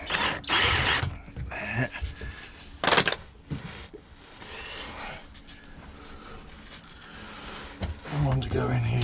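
A power driver runs screws into the front bumper of a 2015 Peugeot Boxer van in short whirring bursts, with pauses between them, some clanking of parts and someone talking at times.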